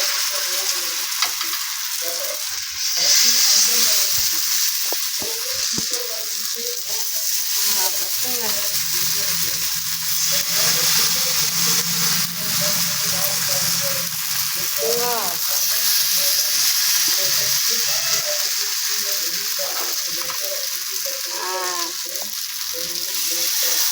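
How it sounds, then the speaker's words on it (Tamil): Raw plantain (vazhakkai) slices fry on a flat dosa griddle, making a steady sizzle that runs the whole time. The hiss is close and even, with a few soft clinks and stirring noises over it. "இதுமாரி தோசைக்கல்லில் போட்டு இப்படி பொரிச்சு எடுத்திங்கன்னா"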